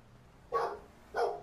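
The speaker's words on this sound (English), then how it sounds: "Dog in the back end." A dog in a video game barks twice, with a short pause between the two loud, close barks and no talk.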